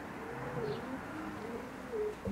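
Racing pigeons coo softly inside a loft, low repeated calls rising and falling over a steady background hum, fairly close but quiet.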